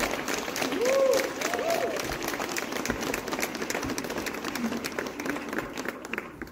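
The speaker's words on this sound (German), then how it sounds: "das ist ein Applaus wert." Steady applause from a crowd at an outdoor fan hiking event fills the clip, dense clapping holding at a fairly even level with some brief vocal sounds early on.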